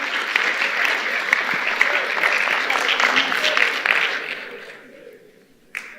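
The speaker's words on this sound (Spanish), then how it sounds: "despedimos sí, a Nicolás con otro aplauso" Applause from an audience after a talk at a startup event, a steady close round of clapping that fades out over the last two seconds before a single sharp sound.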